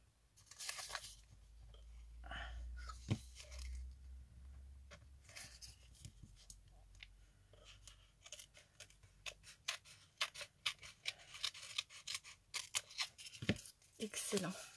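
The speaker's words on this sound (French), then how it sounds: "Je vais plutôt prendre des ciseaux." Scissors cutting semi-transparent thermal printer paper, a string of quick crisp snips and paper rustles up close, faint and under soft French speech.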